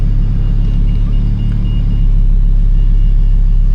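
Cabin rumble of a Lamborghini Huracan Performante on the road, a steady, loud low engine and tyre drone with no breaks, heard from inside the car.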